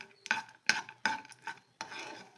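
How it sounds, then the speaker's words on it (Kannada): Sweet mava gujiya frying in ghee, heard as a series of close scraping and stirring strokes against the pan, about five distinct bursts with short pauses between them. "ಅಷ್ಟೇ ಕ್ರಂಚಿನೆಸ್ ಇರಲಿ ಅಂತ ಫ್ರೈ ಮಾಡ್ಕೊಳ್ತಾ ಇದ್ದೀನಿ"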